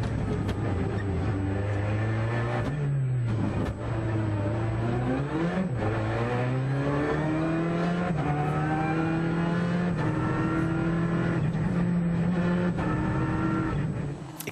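Citroën DS3 R3 Max rally car at the 2014 Rallye du Var, its engine revving loudly and continuously as it accelerates and shifts through gears, pitch rising and dropping repeatedly, close and dominant with no talk.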